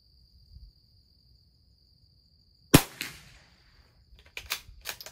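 A single sharp crack from a .22 LR Christensen Arms rifle at a target match stands out against near silence and a steady faint high whine. A softer tail follows, then a few smaller clacks near the end.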